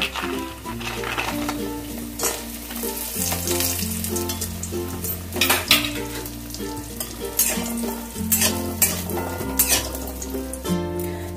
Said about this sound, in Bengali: এবার আমি প্রথমে বড়িগুলোকে ভেজে নেব।